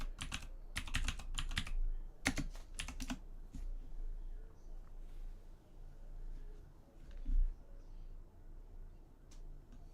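Keys clatter on a computer keyboard in close, quick bursts for the first few seconds. Scattered softer taps follow, with faint room noise underneath.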